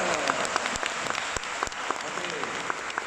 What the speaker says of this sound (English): can we give a round of applause for Darren?